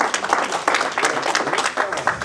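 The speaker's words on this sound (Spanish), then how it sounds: "Un aplauso para el Señor," A church congregation at a Spanish-language service breaks into lively, uneven clapping with sharp individual claps, close and fairly loud, over a couple of seconds.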